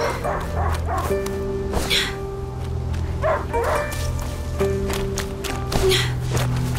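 A dog barks in short, repeated yaps over a busy soundscape from the video game A Plague Tale: Innocence, with a steady hum and scattered clatter, fairly close and loud.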